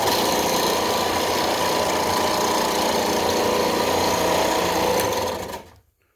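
A Harbor Freight belt sander runs at a steady, loud mechanical whir and hum close by, then is switched off and winds down to silence.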